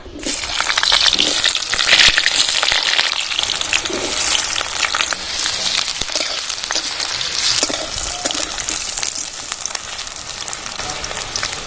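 Diced potatoes hit hot mustard oil in a kadai, releasing a loud rushing sizzle that holds steady and continuous for several seconds, with no voices.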